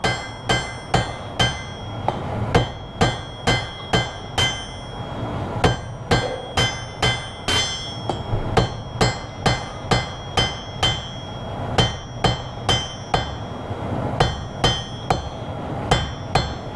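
A hammer strikes hot quarter-inch square steel stock to forge a taper for a leaf pendant, a close ringing series of sharp blows, mostly steady, with short pauses between bursts and no talk.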